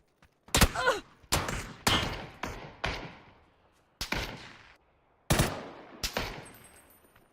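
Gunfire in the battle royale game PUBG: a string of sharp, loud single shots, each with a fading echo tail, fired in uneven bursts at close range, no talking.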